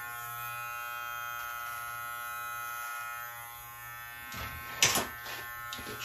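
A Live Bearded MT-1 electric beard trimmer cutting a medium-length beard gives a steady close buzzing hum with a constant tonal whine, then a few brief louder scraping bursts near the end, no talking.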